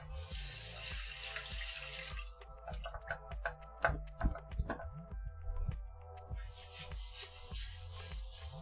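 Water runs from a kitchen tap into a sink during cleanup after cooking. A steady rush at first gives way to scattered splashes, drips and clatter, then the gush returns near the end, close and moderately loud.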